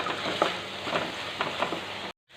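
Sliced onions with salt fry in a pan for a quick lollipop snack: a steady, crackling sizzle runs throughout, punctuated every half-second or so by soft scraping knocks of a spoon stirring, before cutting off abruptly.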